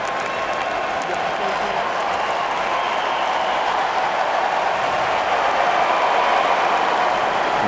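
Tennis crowd at a 2024 US Open semifinal between Fritz and Tiafoe applauding and cheering after a double fault, a steady, loud, dense wash of clapping and crowd noise filling the arena throughout.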